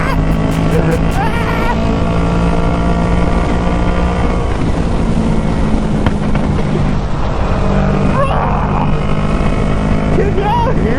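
A 2020 Kawasaki Z650 motorcycle fitted with a Hindle full exhaust, flashed and tuned, roars steadily and loudly on the road with heavy wind buffeting, and a rider's voice is heard over it.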